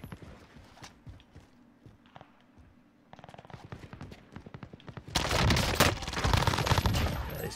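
Gunfire in Warzone crackles through the match, scattered shots and footsteps giving way to a loud, dense burst of rapid automatic fire near the end.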